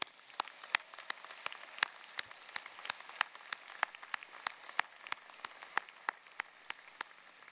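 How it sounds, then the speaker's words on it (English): Sparse, scattered claps from a high school commencement crowd, faint and distant, with individual hand claps popping out steadily across the whole stretch. "can we have a round of applause for those students?"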